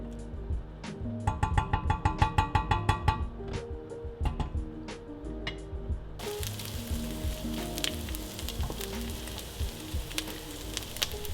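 Onions cooking in olive oil in a pot over medium heat, a continuous close sizzle with a run of metallic clinks and taps from stirring, then a brighter, louder frying hiss in the second half.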